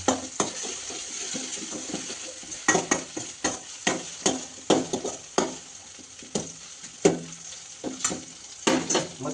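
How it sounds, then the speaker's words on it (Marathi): Green chillies are stirred in a frying pan with a spoon, a steady sizzle running under repeated sharp scraping and clinking strokes against the pan, close and fairly loud, with no one talking. "मिरची घालून घ्यायचं, जरा आणि जरा ढवळायचं"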